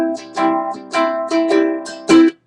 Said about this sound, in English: That gives you your shuffle, and that sounds like this.